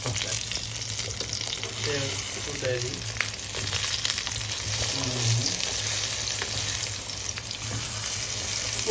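Eggplant fries in oil in a home kitchen, sizzling steadily nearby for the whole stretch. Occasional clatter and a faint running-water wash sit underneath, and murmured voices come through briefly.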